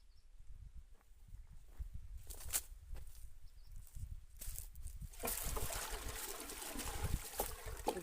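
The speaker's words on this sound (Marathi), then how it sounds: "आता याला आपण काडीच्या माध्यमातून चांगलं ढवळून घेऊ" A stick stirs a nano urea solution mixed with water in a container for a mulberry garden, soft sloshing and scraping swirls that grow louder and more continuous in the second half, close and alone.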